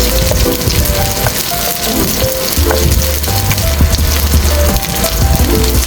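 Onion frying in a pan until golden brown for chicken mechado, a steady loud crackling sizzle with occasional stirring scrapes, close by and continuous, with no talk.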